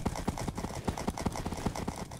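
Horse galloping in the Minecraft video game: rapid, even hoofbeat clip-clops in a continuous driving rhythm, close and steady throughout.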